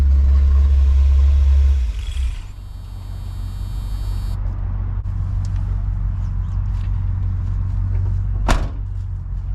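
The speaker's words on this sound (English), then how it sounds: "I'm gonna shut it off, see if it diesels or anything" A 1984 Chevy Silverado with a swapped-in 350 V8 idles loudly with a steady low rumble, then shuts off and dies out after about two seconds, leaving quiet background hum and a single sharp clunk near the end.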